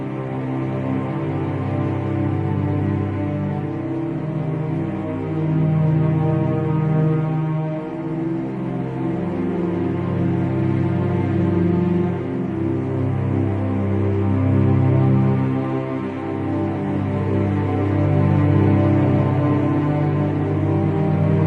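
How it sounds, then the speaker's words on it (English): Menu theme music from the video game Lugaru, a sustained, layered musical piece with steady tones and gentle swells, playing loudly and continuously with no talking over it. "What you just heard there was the menu theme from Lugaru"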